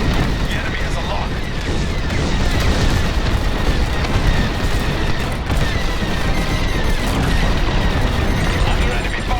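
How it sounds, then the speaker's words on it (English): Enemy laser fire and explosions in the Star Wars Squadrons space combat game form a dense, loud, continuous barrage of booms and blasts that never lets up. "Under enemy fire."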